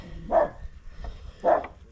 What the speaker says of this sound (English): Mr. Griffey's barking at Jake